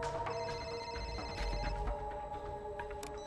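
A telephone rings in the German-language 24: The Game video game, a steady electronic ring tone sounding across the short stretch with no speech over it.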